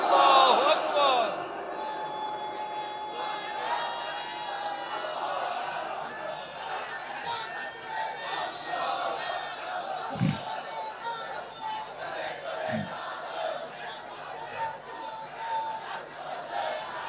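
A large crowd at an Islamic mahfil rally shouts takbir responses in unison, a loud massed roar that swells at the start, then a steady rumble of crowd voices with a few sharp thumps over the rest.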